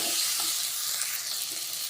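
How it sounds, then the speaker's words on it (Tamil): Onion and tomato sauté in a pan for cauliflower gravy, a continuous dense sizzle with soft stirring scrapes, close and even. "வெங்காயம் தக்காளி நல்லா வதங்கட்டும்."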